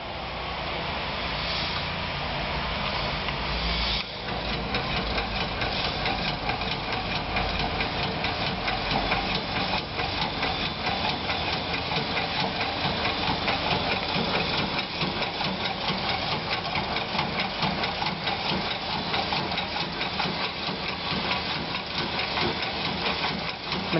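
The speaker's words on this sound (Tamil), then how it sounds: "2 செட் டூல் மாட்டா அது பேர் டியூவல் ஷேப்பர் மிஷின்." A dual side shaper machine with two tool sets, driven by a motor through a Scotch yoke plate, runs continuously with a steady mechanical whir and rapid rhythmic clatter, loud and alone throughout.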